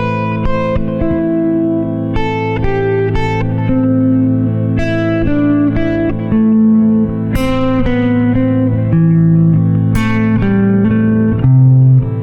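Electric guitar plays a flowing line of picked notes with wide downward jumps, ringing over a constant low drone chord.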